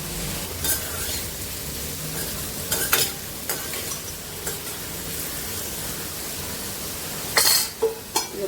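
Brinjal, potato and mango stirred and sautéing in a pan with salt and turmeric, a steady close sizzle broken by scraping stirs around three seconds and again near seven and a half seconds.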